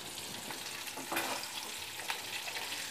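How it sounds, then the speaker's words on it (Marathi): Capsicum fries in a pan over a medium flame, a soft, steady sizzle with occasional stirring scrapes, close and alone. "1 ते 2 मिनिट चांगलं असं फ्राय करून घ्यायचं आहे। तर इथे गॅस मी मीडियम फ्लेमवर ठेवलेला आहे।"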